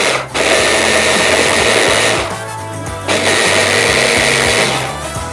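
A blender whizzing chili paste whirs loudly up close in two bursts, its motor dipping briefly between them before spinning up again.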